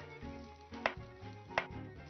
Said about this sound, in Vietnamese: Ớt chuông này anh sẽ cắt miếng.